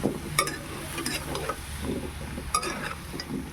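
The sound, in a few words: stirring squash sautéing in oil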